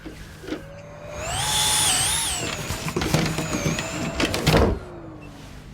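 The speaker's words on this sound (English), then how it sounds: "Staubsauger?" A vacuum cleaner in a space-adventure video game gives a rising, wavering electric whine that swells and dips over several seconds amid clattering mechanical noises, then trails off with a falling tone.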